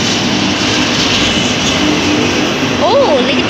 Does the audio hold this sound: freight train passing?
yes